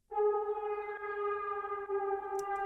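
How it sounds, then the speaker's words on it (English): A steady garage-style electronic drone with bright harmonic layers holds a single tone, slightly bending from pitch-wheel automation, starting abruptly and continuing without voices. "You can hear there's a cool pitch bend going on when I play it here."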